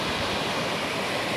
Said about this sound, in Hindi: इधर दरवाजे और यहाँ पे पानी जा रहा है।